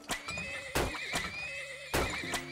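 A horse in the video game Turmoil gives several sharp whinnies over clip-clopping hooves, the neighs rising loud and close in repeated bursts with no talking.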